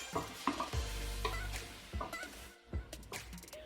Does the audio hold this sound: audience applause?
no